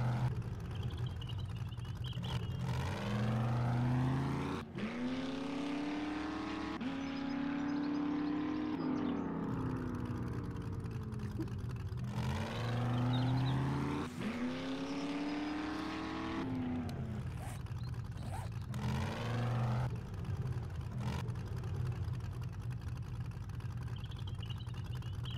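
A vehicle engine in the survival game 7 Days to Die drones steadily for the whole stretch, its pitch rising and falling through repeated gear-like sweeps as it accelerates and eases off, loud and close with no talk over it.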